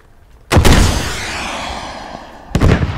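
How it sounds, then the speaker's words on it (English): A BTR armored vehicle taking hits in the Squad video game: two loud, sharp blasts about two seconds apart, the first trailing off in a long rumbling decay before the second strikes. "BTR hit once, BTR down"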